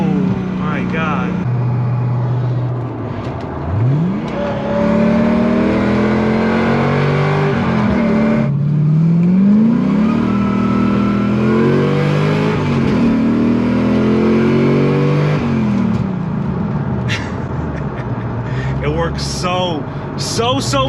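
A Corvette ZR1 engine, repaired after flood damage, accelerating hard, pitch climbing through repeated gear changes, loud and close, with people talking and exclaiming over it.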